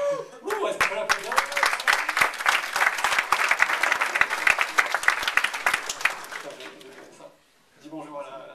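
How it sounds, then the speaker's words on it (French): An audience at an HTML5 meetup bursts into applause for Jean-Marie, building quickly into a dense, lively roar of clapping that fades out after several seconds, with a speaker's voice heard at the start and again after the clapping ends. "est-ce qu'on peut l'applaudir?"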